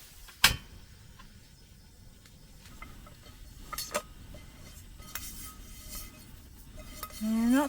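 Metal utensil scrapes and clinks against a camping pan while eggs are stirred, with sparse taps and knocks at a campsite in West Texas, fairly faint, ending in a brief louder scrape.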